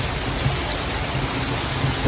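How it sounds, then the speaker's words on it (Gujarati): Heavy, steady rain pours down without a break, a dense hiss with low rumbling underneath and no voices. "વરસાદ જોઈ લ્યો કે બહુ ખતરનાક વરસાદ ચાલુ હોય"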